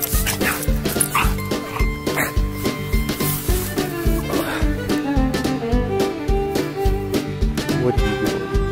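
A pet dog yips, barks and whimpers repeatedly close by, the sounds overlapping a dense, steady musical background.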